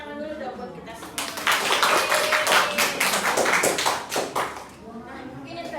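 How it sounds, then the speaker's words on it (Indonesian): Classroom applause during a micro-teaching lesson, a dense burst of many hands clapping that rises after a second, holds for several seconds, then thins out near the end. "Itu tepuk tangan dulu dong buat kita semua."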